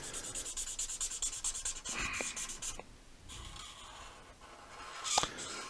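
Promarker felt-tip pens scratch and rub across paper while colouring in shapes, a steady close-up scribbling texture with short strokes, a brief pause near the middle, then more strokes and a sharper scrape toward the end.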